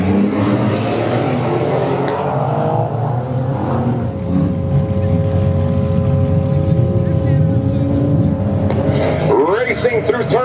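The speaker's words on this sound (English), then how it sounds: "Racing through turn 1 as the dust settles, headed into turn 2 side by side and a double slide" Demolition derby cars at Western Michigan Warzone in Ludington, Michigan, roar steadily and loudly into a dirt-track turn, engines droning and revving with a rising whine near the end, while a voice talks over them.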